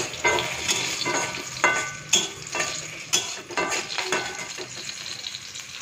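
Green chili, panch phoron and asafoetida crackle and sizzle in hot oil in a pan, up close and fairly loud, with frequent spoon scrapes and metal clinks stirring through, and no voices.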